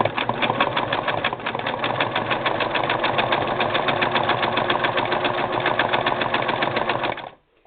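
A Singer 6212C sewing machine stitching zigzag, running continuously at an even rapid chatter for about seven seconds before stopping, close and loud with no talk.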